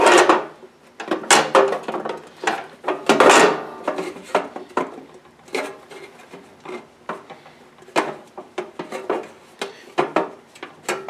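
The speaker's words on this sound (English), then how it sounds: "Now we're going to start bending over all of the hems here to make it lock into place." Sheet metal hems being bent over by hand on a metal bird house, heard as irregular scraping, rubbing and clanking metal knocks in uneven bursts, close and fairly loud, with no talking.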